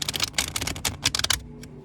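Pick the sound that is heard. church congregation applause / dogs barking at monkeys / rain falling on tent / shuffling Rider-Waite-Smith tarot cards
shuffling Rider-Waite-Smith tarot cards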